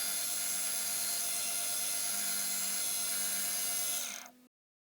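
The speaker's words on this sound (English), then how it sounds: "I'll just be milling this flat now and then this flat will go all the way across this boss here" Metal part being milled flat across a boss on a milling machine, a loud steady whirring hiss that holds for about four seconds, then cuts off abruptly.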